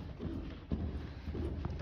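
Horse hooves cantering on a lunge line, a rapid clip-clop rhythm of repeated hoofbeats close by, with a trainer's voice faintly present in the background.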